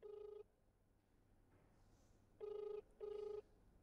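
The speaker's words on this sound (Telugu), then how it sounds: "దువ్వాడ మాధురికి ఫోన్ రింగ్ అవుతుంది." An outgoing phone call rings through in three clear electronic ring bursts, each about half a second long, the last two close together, over near silence.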